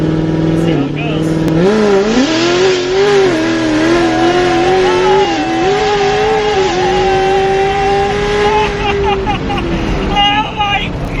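Cammed Corvette Z06 V8 at full throttle, a loud, continuous, rising engine roar that climbs steadily through the revs before lifting off near the end, heard from inside the car with voices briefly over it.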